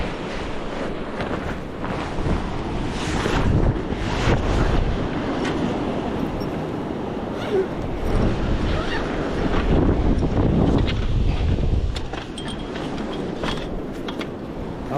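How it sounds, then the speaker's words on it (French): Steady wind buffets the microphone on a beach during surfcasting, a broad continuous roar that swells and eases over fifteen seconds, with surf noise beneath and no talk. "Un peu de vent quand même."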